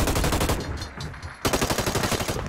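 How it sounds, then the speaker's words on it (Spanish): Rapid automatic gunfire in the futuristic shooter Hyper Scape, loud close bursts of evenly spaced shots, briefly thinning in the middle before a fresh dense burst resumes. "Están disparando"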